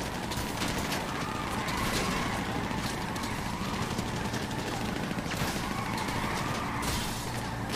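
Sustained, dense video game gunfire sounds from shooting at a hospital during vehicle play, a loud continuous barrage with engine rumble, with no clear speech.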